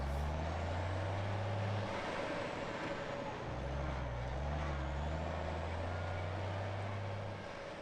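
Heavy vehicle engine droning loud and steady with deep low rumble throughout, broadband roadway noise over it, no talk.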